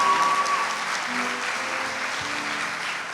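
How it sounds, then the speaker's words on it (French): An audience claps steadily throughout at a graduation ceremony in Haiti, dense and sustained applause from a crowd with a faint voice underneath. "Applaudissez-la pour moi, s'il vous plaît."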